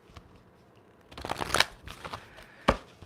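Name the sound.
shuffling tarot cards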